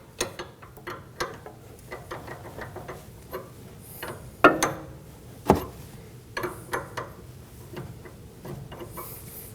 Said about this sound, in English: We can start to work the nut loose from the inner tie rod.